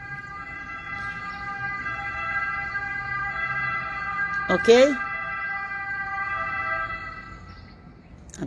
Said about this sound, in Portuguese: Até a ambulância passou ali buzinando.